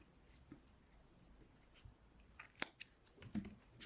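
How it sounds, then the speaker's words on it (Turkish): Scissors snip through yarn during amigurumi crocheting, a single sharp metallic cut standing out near the end against a quiet background, followed by a soft thump. "Burada ipimi keseceğim."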